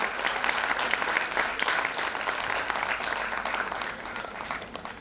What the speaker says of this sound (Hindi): मैं चाहूंगी तालियों का जोश अंत तक बना रहे।